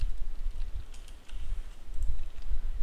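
Fast, steady clicking of a computer keyboard, close and soft over a low background hum, as code is typed for a Minecraft Bukkit plugin.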